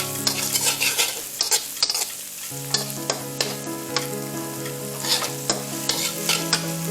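Vegetables stir-fried over high heat for fried rice, a loud, dense sizzle with rapid, regular spatula scrapes and taps against the pan, close up and without any voice.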